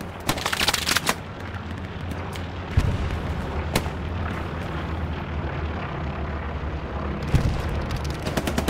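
Artillery fire in Hell Let Loose, heavy booms and sharp blasts in an ongoing battle, a few loud hits standing out over a constant rumbling backdrop, no voices.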